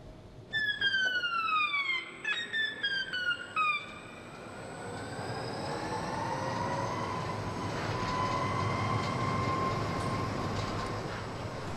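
A Berlin S-Bahn train passes on the Stadtbahn, opening with a cluster of sharp, falling wheel squeals and clanks, then settling into a long, loud rolling rumble as the cars run by close to the listener.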